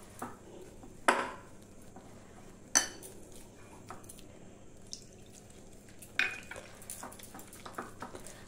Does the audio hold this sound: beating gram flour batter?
yes